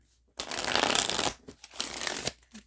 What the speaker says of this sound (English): I'm going to start shuffling the decks back up